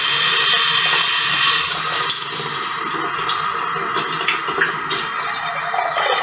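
Hot water gushes from a tap into a baby red-eared slider's tank, a loud, continuous hiss and splash that stays close and steady for about six seconds with no talking.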